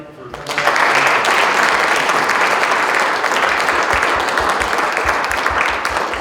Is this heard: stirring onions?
no